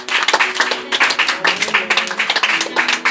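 A church congregation at a prayer vigil claps to acclaim the Lord, quick rhythmic handclaps packed close together and mixed with voices singing or calling out, loud and near throughout.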